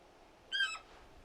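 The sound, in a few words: bird calling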